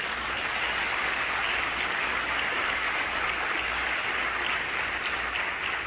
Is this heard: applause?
yes